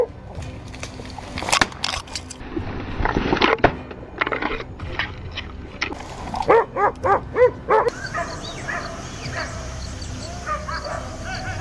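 Hunting dogs bark and yip in a chase after wild boar through thick brush outdoors. The barks come in fast, irregular bursts, with a few close, loud yelps mixed among more distant barking and rustling.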